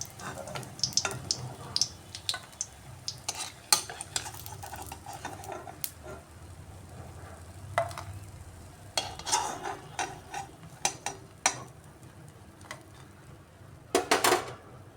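Batter-coated bok flower pakoras fry in hot oil, with irregular stirring and scraping and sharp clinks of utensils against the pan over a low, steady sizzle throughout.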